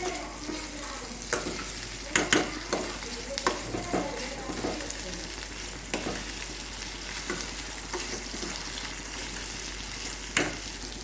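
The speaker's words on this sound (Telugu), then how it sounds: "టమాటాలు వేసుకొని కూడా కలుపుకోవాలి." Tomatoes and vegetables frying in a pan for khichdi, stirred with a utensil: a steady sizzle runs throughout, broken by repeated scraping and clinking stir strokes, close and moderately loud, with no talking.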